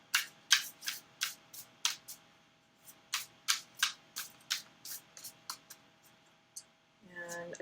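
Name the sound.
shuffling tarot card decks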